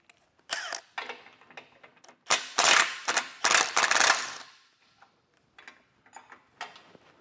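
A ratchet wrench works bracket bolts loose from the outside of a 2024 Jeep Wrangler frame, sounding as close, loud bursts of rapid clicking with short pauses between turns and no talk.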